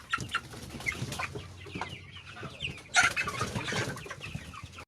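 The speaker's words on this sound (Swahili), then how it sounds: "Hapa chini pia kuna kuku." Chickens clucking on a poultry farm, several birds making repeated short clucks and calls at close range, with a louder burst of squawking midway and a faint background hum.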